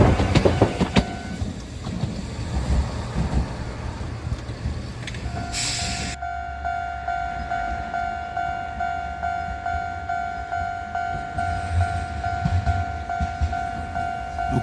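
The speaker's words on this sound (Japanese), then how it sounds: "低床電車です。" Low-floor tram on the Kagoshima city tramway near a level crossing, rumbling steadily close by with a sustained two-tone bell or warning tone ringing through most of it, no talk.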